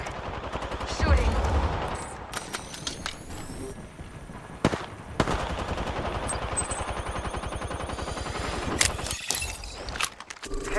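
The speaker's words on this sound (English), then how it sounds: "Shooting." Gunfire in Call of Duty: Modern Warfare II, a rattle of shots and sharp cracks scattered over a busy game soundscape, with a few louder bursts standing out and game voices speaking in places.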